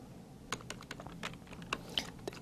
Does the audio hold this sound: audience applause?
no